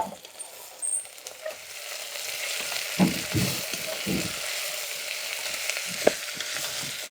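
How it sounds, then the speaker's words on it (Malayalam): A pan of vegetable stew with carrot, curry leaves and salt hisses softly while a spoon scrapes through it in a few uneven bursts of stirring. "കുറച്ച് കറിവേപ്പില, പാകത്തിന് ഉപ്പ്. ഒന്ന് മിക്സ് ചെയ്യുക."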